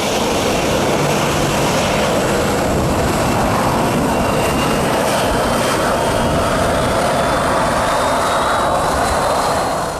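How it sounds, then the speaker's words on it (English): Boeing 737-800 jet taking off, a loud, continuous roaring engine blast heard close up, dense and unbroken for the whole stretch with a faint rising whine above it. "many people still stood directly behind the Boeing 737-800 during its takeoff"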